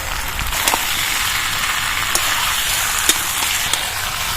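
Young jackfruit (echor) sautés in a hot pan, a steady loud sizzle with occasional sharp crackles and spatula scrapes, close and continuous throughout.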